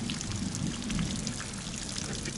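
Steady rain falls during a night thunderstorm outside a forest hut by a fishing spot, a soft continuous hiss and patter without pause.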